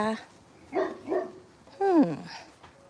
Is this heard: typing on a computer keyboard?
no